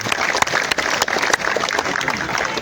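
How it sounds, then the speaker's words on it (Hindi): Crowd of protesters clapping for volunteers at a NEET protest at Jantar Mantar, a dense, steady wash of many hands with a few sharper claps standing out, fairly close and filling the whole moment. "सो ये वॉलंटियर्स के लिए भी एक बार तालियां बजा दीजिए"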